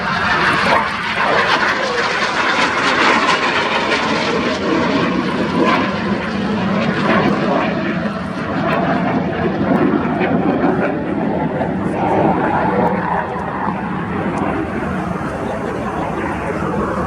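Red Arrows jet aircraft make a low display pass at about 100 feet during an air show, a loud sustained roar of engines dominating throughout, with faint commentary beneath.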